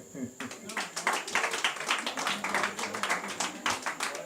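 Congregation clapping in praise at a church service, a dense, steady patter of many hands that carries on throughout.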